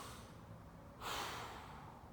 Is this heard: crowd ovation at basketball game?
no